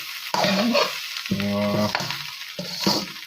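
Special fried rice being stir-fried in a home-kitchen wok, producing a loud close sizzle with scraping stirs in short bursts, while a voice speaks in between.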